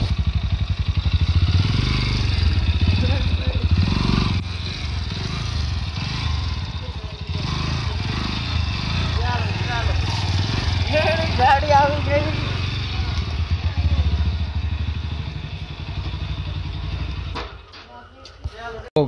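A Bajaj Pulsar NS 160 BS7 dual-channel ABS motorcycle engine running nearby, a steady low idle throb beneath almost continuous talk, fading out near the end.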